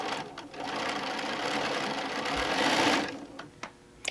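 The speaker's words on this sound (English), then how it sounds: "we're just going to sew down" A sewing machine stitches down folded quilt strips, running steadily for about three seconds, then slowing and stopping with a few short clicks near the end.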